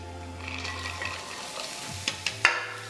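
Onion hitting a thin layer of neutral oil in a pan for fried rice, a quiet sizzle over a low steady hum, ending in a few short clinks and scrapes.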